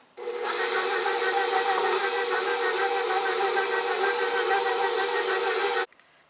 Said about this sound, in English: And I'm gonna mix in my mixer.